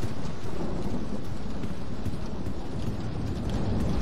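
Steady rain pours with low thunder rumbling underneath in the Roblox horror game Doors, a dense, even hiss of falling water that stays constant and moderately quiet with no voices.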